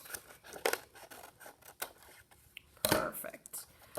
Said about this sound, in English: we're going to create sort of a rolling hill with our scissors